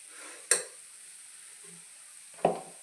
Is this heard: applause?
no